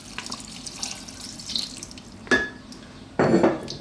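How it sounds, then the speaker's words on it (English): Water poured into a pot of lamb and red wine stew in a home kitchen, two short splashing pours, close and fairly loud, with light clatter of a pan in between. "And then we're going to add some water or stock."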